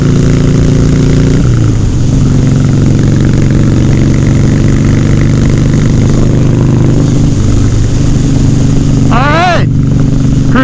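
A Harley Softail motorcycle cruises along a freeway at about 70 mph, its engine a loud, continuous low drone with steady harmonic hum and wind rush, a brief gear-like shift near the start, and a rider talking over it.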